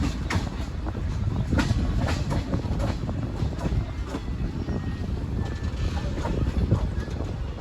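Continuous rumble of a Veraval–Bhavnagar passenger train arriving at Vadal railway station, with a rhythmic clatter of wheels over rail joints, holding steady throughout.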